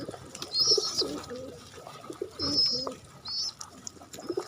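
Pigeons and a pigeon chick, a few soft coos close by with some high chirps between them, quiet and intermittent, no voices.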